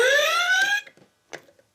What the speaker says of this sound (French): c'est le réveil matin de Léo qui sonne